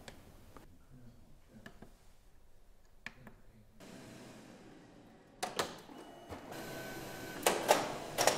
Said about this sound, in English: Unload the media by pushing a button on the operator panel.